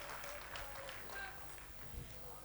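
An audience at a mushaira claps in a faint, distant patter that lasts the whole short stretch.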